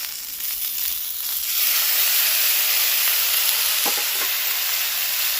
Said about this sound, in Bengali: এবারে মশলাটা দিয়ে দিই এর মধ্যে আছে একটু কাঁচা লঙ্কা টমেটো আদা আর পেঁয়াজ